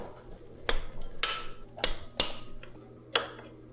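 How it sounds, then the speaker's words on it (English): A hammer taps a stud on a Honda CRF100 engine with five or six sharp metallic strikes, spaced irregularly and heard close up in a quiet workshop. "I'm gonna tap that on with a hammer."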